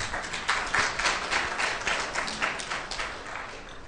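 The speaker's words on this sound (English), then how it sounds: "if you're going to applaud every time I say something smart" Audience applause at a lecture on psychedelics and the unconscious, a full room clapping in a dense, continuous wash that stays fairly even and eases slightly toward the end.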